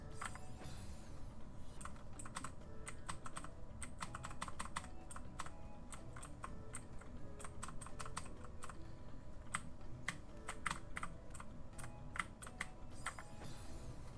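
Computer keyboard keys tapped rapidly during a platforming game, with dense, irregular bursts of sharp clicks close up that run without pause for around fourteen seconds over a low background hiss.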